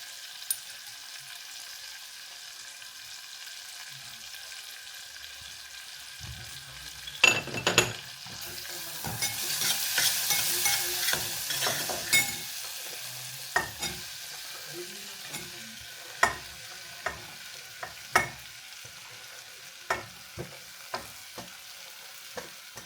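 Okra seasoned with lemon and salt is stirred in a pan, with soft sizzling and a run of sharp spatula scrapes and clinks against the metal, close and unhurried, with no talking.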